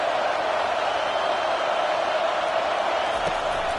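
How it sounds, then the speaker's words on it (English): Stadium crowd at a college football game at Clemson roaring steadily on a third-down defensive stand, a dense, sustained wash of cheering voices with no break across the whole stretch. "Decibels rising as the crowd gets behind this defense on 3rd down."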